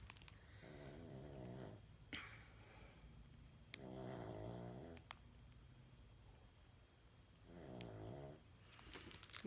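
Someone snores in a quiet room, three long, rough rasping breaths spaced a few seconds apart, each swelling and fading, with faint clicks and small bumps between them.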